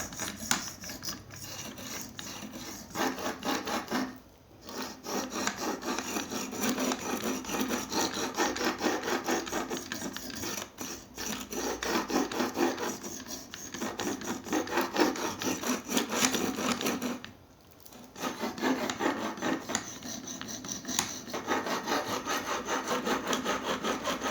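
A Leatherman Rebar multitool's serrated knife blade is drawn over a whetstone in steady, continuous strokes, a close, dense scraping rasp that runs unbroken with a few brief pauses and no talking.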